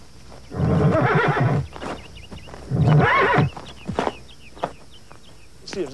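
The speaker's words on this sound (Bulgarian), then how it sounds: "Проклети индиански кон." A horse neighs twice, loud and close, in long whinnying bursts, followed by scattered hoof clops and faint bird chirps in a quiet outdoor setting.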